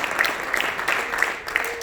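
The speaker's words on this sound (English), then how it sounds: "we give you a round of applause" A standing audience at a company tour event claps for newly recognized regional directors, a moderate, even patter of hands lasting a couple of seconds with no talking over it.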